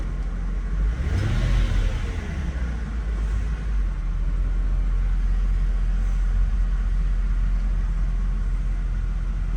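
A 2003 Mercedes SL500 with 40,000 miles and low front tires, its engine revving up briefly then settling into a steady low rumble, heard close and continuous without talking.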